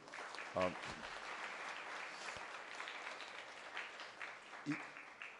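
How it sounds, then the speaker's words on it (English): A faint round of applause from an audience for a distinguished lecturer at a public health lecture, scattered clapping at moderate distance with voices heard over it. "let's give a round of applause to our distinguished lecturer here this morning"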